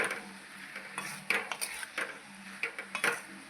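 A spoon scrapes and taps against a pan as chili powder and salt are stirred into ridge gourd, steady close clinking and rubbing with a faint sizzle underneath and no voices.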